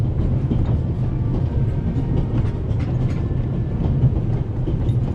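A train rolls on rails in the video game The Raven, a steady loud rumble with faint rhythmic clatter of wheels, continuous and close with no other sounds.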